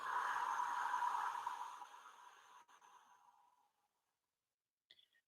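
A long, slow exhale out through the mouth, a soft breathy rush heard up close that gradually fades to silence, followed by a faint brief sound at the end.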